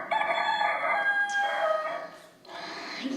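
A rooster crows at dawn in a village, a long, bright cock-a-doodle-doo close by, followed by a second shorter call, with no talking.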